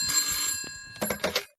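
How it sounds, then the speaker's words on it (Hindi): A telephone rings indoors, a bright electronic trilling with a couple of bursts of ringing, fairly close and clear with no talking. "ई बखत किसका फोन आएगा?"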